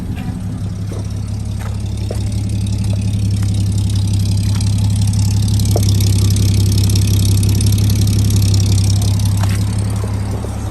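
A 1956 Chevrolet 3100 pickup's original 235 Thrift Master inline-six idles close by, loud and smooth with an even, steady low rumble and no voices over it.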